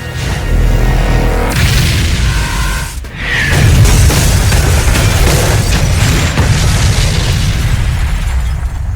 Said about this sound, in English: they caused an explosion, and only Superboy and Steel noticed this explosion